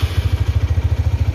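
A 2008 first-generation red Honda Tiger motorcycle engine idles close by, with a steady rapid even thumping pulse of loud, low exhaust beats.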